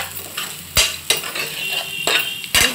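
A spoon scrapes and clinks against a pan as salt and chilli powder are stirred into an aubergine and chana dal curry, several sharp metallic strokes at an uneven rhythm, close and fairly loud, with no talking.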